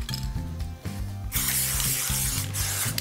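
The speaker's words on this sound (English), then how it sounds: "For convenience, I'm using an aerosol can." An aerosol can of degreaser sprays in a bright continuous hiss that starts partway in, loud and close, layered over a rhythmic mechanical clicking that runs throughout, with a brief break near the end.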